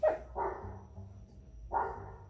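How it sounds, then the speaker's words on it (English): A dog barks from a television in two short, muffled bursts with a quiet pause between them, moderately loud and with no talking. "Is there a doggy on TV?"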